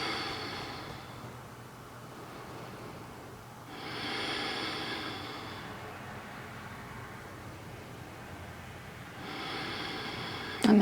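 Slow, deep breaths during a relaxing yin yoga stretch, three long airy exhales spaced several seconds apart, soft and close over a quiet background.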